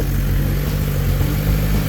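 A red 2017 Suzuki GSX-R 1000 sport motorcycle with its stock exhaust running close by, a loud, steady, throaty engine drone with no pauses.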